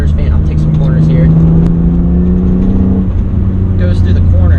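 Sporty car with a manual shifter pushed hard through corners, its engine droning loud and close throughout with a steady low tone that drops briefly and rises again, a voice speaking over it.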